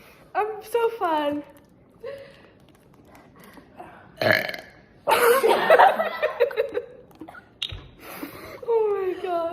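Loud, drawn-out burps from a girl, interrupted by laughter, coughing and gasps as people react nearby; several burps come in bursts through the clip.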